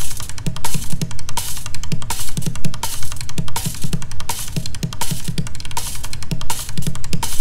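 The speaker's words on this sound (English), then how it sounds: "Buckets have such a nice, like, thumpy sound." Rapid, thumpy hand-drumming on plastic buckets with quick doubled strokes in a steady groove, close and loud, no voices.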